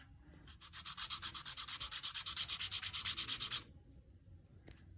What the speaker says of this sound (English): since you can't really use a sharpener to sharpen it, we're sanding the edges down